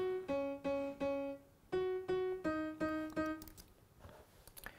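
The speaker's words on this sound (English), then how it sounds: "I tried to kind of highlight a melody within the chords by turning up these notes." Soft synth chords played in short repeated stabs, with certain melody notes struck at higher velocity so they ring out above the rest, fairly quiet and fading into a noisy tail.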